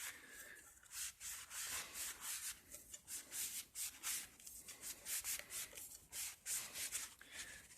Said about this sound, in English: I'm going to clean the inside of this turntable platter